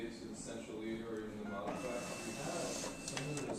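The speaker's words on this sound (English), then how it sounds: "the high-speed scanner will start working" A high-speed document scanner feeding and scanning pages on both sides in one pass, giving a steady mechanical whir and rattle with small changes in pitch, heard indoors while someone talks over it.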